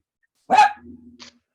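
A dog gives a single sharp bark, close and fairly loud, followed by a brief low growl and a short yip.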